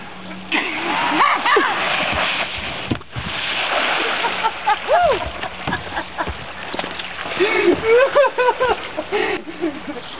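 Kayak launched into a lowland river, water splashing and sloshing around the hull while several people talk, shout and laugh close by.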